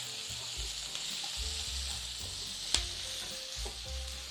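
Shrimp stir-fries in black pepper sauce in a wok, a soft continuous sizzle broken by low thumps and scrapes of the utensil and one sharp clack, close and fairly quiet, with no voices.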